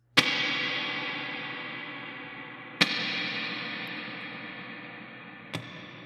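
A guitar played through a Neunaber Immerse Mk II reverb pedal with pre-delay at minimum: three struck chords, each followed by a wash of reverb that swells immediately and decays slowly into the next.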